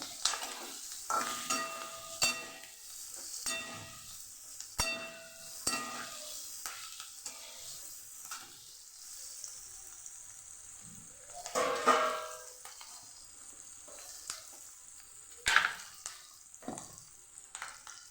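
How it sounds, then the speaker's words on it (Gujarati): Green chilies sauté in a hot pan, a quiet sizzle broken by scraping and clinking as they are stirred, with pauses between movements. "મરચાંને આપણે સરસ સાતડી લેવાના છે"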